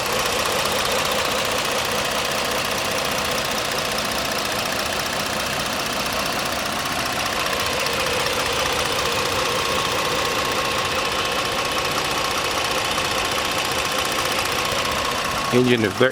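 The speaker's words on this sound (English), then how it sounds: "Engine is very quiet." A 2013 Ford Explorer Police Interceptor Utility SUV engine idles with a steady low sound, running evenly throughout, smooth and unchanging, with a brief clatter right at the end.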